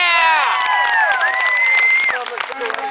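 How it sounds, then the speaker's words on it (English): A crowd in Concord, North Carolina bursts into loud cheering and applause for a kid, with high shrieks and shouts over dense clapping that thins out toward the end. "Give this kid a round of applause."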